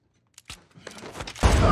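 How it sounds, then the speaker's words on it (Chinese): Film gunshot as a professional hitman fires at an old man sleeping in his bedroom: a few faint clicks and rustles, then a sudden, loud, close blast that rings out and fills the final moments. "就在杀手开枪的时候"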